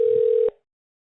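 A telephone call to a plumbing company's AI receptionist rings with a steady electronic tone that stops abruptly after about half a second, leaving silence.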